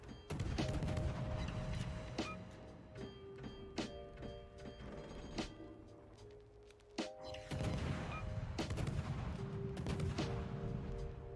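Battleship Montana's guns fire in a naval video game, a run of heavy booms and thuds spread unevenly across the stretch over a constant bed of game sound with sustained tonal notes.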